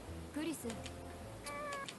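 A black cat in the PS4 game Nights of Azure gives a couple of short, clear meows, quiet and close, over a low hum of game background sound.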